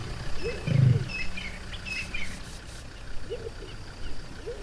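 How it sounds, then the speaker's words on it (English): A lion cub chuffing near its family, a few soft low huffs, the first loudest and the others fainter, with faint bird chirps in the background. "That's basically what's called a chuff."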